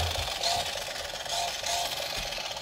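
A small electric motor of a toy RC tricycle whirs with a buzzy drone that surges louder in short revs, close by, with no voices.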